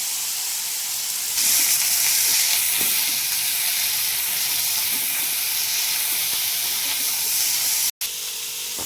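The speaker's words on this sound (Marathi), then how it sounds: "थोडस आपल्याला तेलात परतून घ्यायच्यात ह्या गोळ्याच्या शेंगा" Beans sauté in hot oil in a pan, giving a loud continuous sizzle and hiss that swells briefly near the start and cuts out for an instant near the end.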